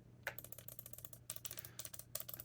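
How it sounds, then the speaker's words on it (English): Face buttons on a Thrustmaster ESWAP S controller for Xbox Series X|S and PC click repeatedly in quick, crisp bursts, close and fairly quiet over a low steady hum. "The actual face buttons though, the A, B, X, Y, they feel really nice on this pad. You can hear them clicking."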